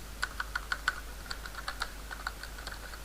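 A computer keyboard clatters quietly while code is typed: irregular bursts of light, crisp keystrokes, about a dozen clicks in quick runs with short pauses between.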